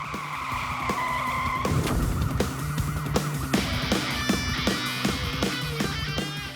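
A car running on bare, badly damaged wheel rims drifts and skids, giving a loud continuous scraping squeal with grinding metallic rattles and rising high-pitched screeches as it slides.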